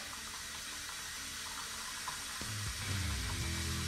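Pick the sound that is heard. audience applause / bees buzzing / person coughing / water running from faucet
water running from faucet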